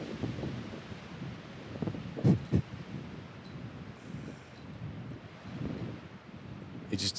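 Wind blowing across a golf course, buffeting the microphone with low rumbling gusts and a couple of sharp bursts, while muffled voices talk underneath.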